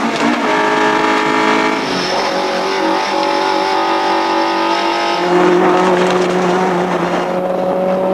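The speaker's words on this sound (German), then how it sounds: "Der begeisternde Sound aus den offenen Ansaugtrichtern" HEICO Volvo S40 race car engine breathing through open intake trumpets, a loud continuous harmonic roar that holds a high steady pitch, then drops and shifts as the revs change near the end, with no talk.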